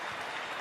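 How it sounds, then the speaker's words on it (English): An arena crowd applauds after a ten-round heavyweight boxing match, a brief dense wash of clapping heard alone. "a round of applause for Vassiliy Jirov and baby Joe Mesi"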